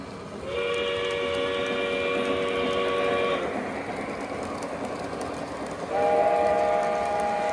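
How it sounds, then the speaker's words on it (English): A toy train whistle blows twice in long sustained tones, the first about three seconds, the second starting near the end, over constant rumbling and rattling. "Blow the whistle."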